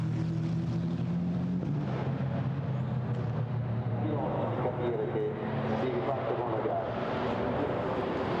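GT4 race cars stream past at Monza during a European Series race, a steady droning engine roar swelling and shifting as the field pours through, under continuous race commentary.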